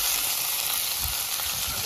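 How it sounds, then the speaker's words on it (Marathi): Bangda mackerel fry in a turmeric tempering of hot oil, producing a dense, steady, close sizzle with faint stirring underneath. "फोडणीवर चांगले बांगडे थोडे फ्राय करून घ्यायचे"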